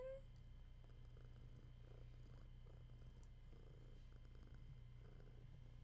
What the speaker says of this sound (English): I don't know if you can hear her, but she's purring.